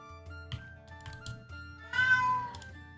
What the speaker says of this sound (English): They're meowing a lot